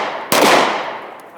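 A single sharp handgun shot rings out close by, a sudden loud crack with a long decaying tail, and no talk around it.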